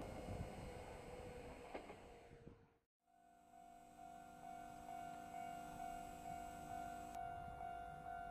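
A Kintetsu three-car semi-express train bound for Nagoya rumbles into Kintetsu Kanie Station and slows, its steady electric whine and droning motor hum filling the foreground after a brief hush.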